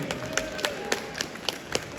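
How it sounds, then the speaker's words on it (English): Sparse, quiet applause from a comic con panel audience in Bridlington, a thin scattering of distinct claps arriving at a loose, steady pace with little else around them. "please can we give a big round of applause for our first guests, Mr. Clem So, Mr. Jon Campling"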